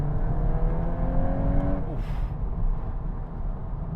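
A Volkswagen Golf R engine drives in R sport mode, a steady in-cabin drone with a rising rev tone that sweeps up then drops around a gear change before settling back to a constant hum, with no speech.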